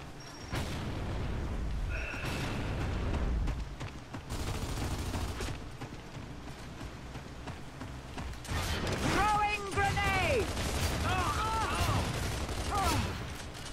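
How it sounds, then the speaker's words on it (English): A frag grenade is thrown and detonates in a Gears of War 3 multiplayer match, a booming blast amid gunfire and mechanical clatter, with game sounds and brief chirping effects over steady background noise and talk. "Throwing frag."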